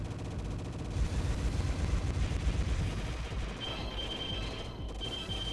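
Rapid gunfire from the player's ship in the Progear arcade shoot-'em-up, a dense, rattling stream of shots over game noise, loud and continuous, with a brief high electronic tone near the end.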